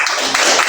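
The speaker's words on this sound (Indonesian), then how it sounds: "Tepuk tangan dong." A short burst of applause from a classroom audience after a university mathematics group presentation, a bright, steady patter of many hands, loud and close.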